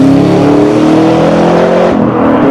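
A 580 horsepower 2012 Chevrolet Camaro ZL1 revs loudly on the Virginia International Raceway track, its engine note holding steady and close before dipping near the end.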